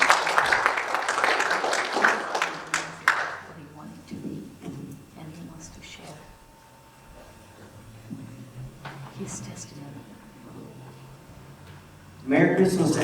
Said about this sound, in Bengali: আসেন আমরা নোয়েলের জন্য একটা জোরে হাততালি দিই।